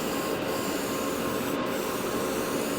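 A Gaahleri Mobius SP airbrush spraying a light coat of paint gives a steady, close hiss of air that runs without a break.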